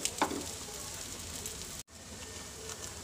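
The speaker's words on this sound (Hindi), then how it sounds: "अब हम इसे दूसरी तरफ से भी फ्राई कर लेंगे" Chicken shami kebabs sizzle steadily in a frying pan, a continuous close hiss with a brief sharp spatter near the start and a momentary cut partway through.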